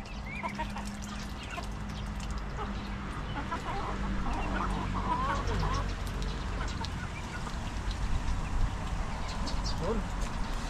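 Backyard chickens cluck and murmur while pecking at banana, a steady close flock chatter under a dense background, with a person talking nearby.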